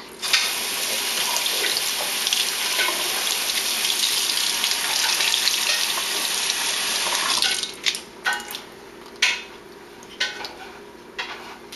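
Tap water pours steadily into a kitchen sink to rinse beans, a close continuous gush that gives way near the end to intermittent splashes and handling clatter.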